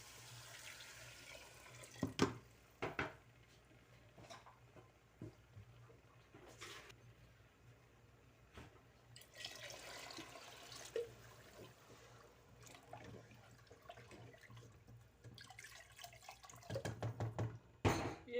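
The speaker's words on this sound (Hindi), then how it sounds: "अभी इसमें पानी डाल दूंगी।" Water is poured into a cooking pot of moong and masoor lentils, giving quiet intermittent splashes and trickles broken by a few clinks and knocks of utensils.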